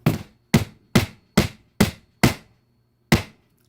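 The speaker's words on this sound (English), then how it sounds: "I'm not going to bore you with me nailing these." Seven sharp hammer blows drive nails into a beer can project, six in a steady rhythm and one after a short pause, each a close, loud metallic-wooden crack with a brief ring.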